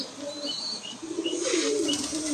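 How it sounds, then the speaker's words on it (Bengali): A pigeon coos in low, soft, rolling tones close by, with a faint background murmur. "প্রচুর রাগী এই পায়রাটা"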